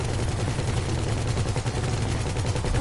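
Sustained automatic gunfire in GTA 5 aimed at a target, loud and close, shots blurring into one relentless rattle for the whole stretch with no voices over it.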